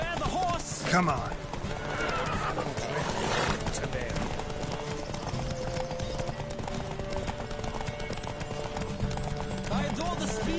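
Horses race at a gallop, their hooves clip-clopping steadily under loud, busy mixed sound, with a whinny near the start and voices throughout.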